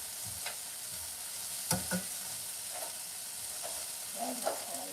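Corned beef and other ingredients frying in a pan hiss with a steady, close sizzle while a spoon stirs them, with a couple of louder scrapes and clacks against the pan.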